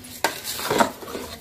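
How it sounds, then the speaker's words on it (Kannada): A pot of rice mixed with spices is stirred by hand, giving a short scrape and a soft clink followed by a brief shuffling, close and fairly quiet. "ಈ ತರ ಎಲ್ಲ ಕೈಯಾಡ್ಕೊಂಡು"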